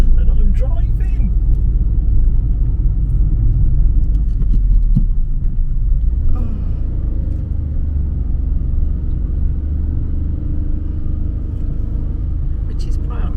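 A car driving on the roads of Fuerteventura gives a loud, continuous low rumble of engine and tyres, with people talking over it.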